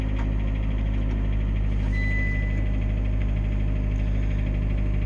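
Small three-cylinder engine of a 2015 Smart Fortwo idling rattly just after a cold start at -21 °C, a loud continuous close rumble with a steady low drone and faint knocking texture.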